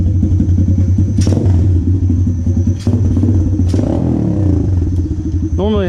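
An Apollo RFZ X15 125cc pit bike engine, still cold, runs loud and close, dipping and bogging as the throttle is punched, while a rider talks over it.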